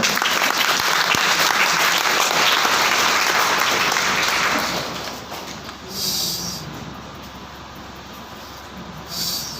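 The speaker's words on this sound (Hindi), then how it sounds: "जोरदार ताली बजा दीजिए" Audience applause at a seminar event, loud dense clapping for about five seconds that then drops to a softer, thinner patter with brief swells.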